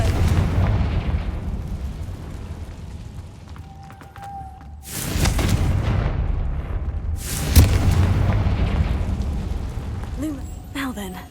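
Confringo blasting-spell explosions in the Hogwarts Legacy video game: two heavy booming blasts a couple of seconds apart over a rumbling game backdrop, with a voice speaking around them.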